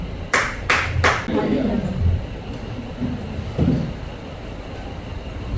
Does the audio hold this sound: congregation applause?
yes